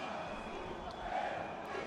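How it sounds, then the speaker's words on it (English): Stadium crowd roaring for Furia at the IEM Rio Major, a dense, steady wall of cheering that swells slightly midway, heard alone at a moderate distance. "Furia's got this crowd on their feet early"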